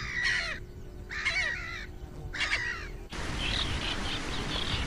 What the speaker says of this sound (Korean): 물가 풀숲은 번식을 서두르는 새들로 소란하다.